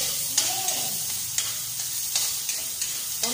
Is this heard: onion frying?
yes